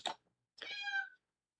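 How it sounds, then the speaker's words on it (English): A cat gives a short chirp, then after a pause lets out one clear, drawn-out meow, close and fairly quiet against a silent room. "hello Kitty"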